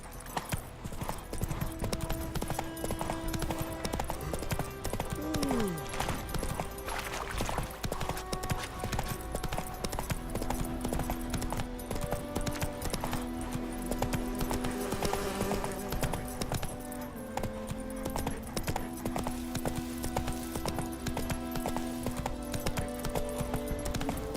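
Hooves of a horse clip-clop steadily in The Witcher 3 video game, a continuous rhythmic gait running throughout over a layer of game music and ambience, with a brief whinny early on.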